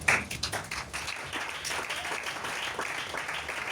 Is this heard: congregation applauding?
yes